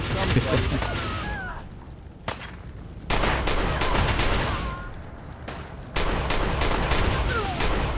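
Rapid gunfire in Fallout 4 with the Sim Settlements 2 quest mod: repeated loud bursts of shots in dense clusters, broken by short lulls, over a busy game soundscape.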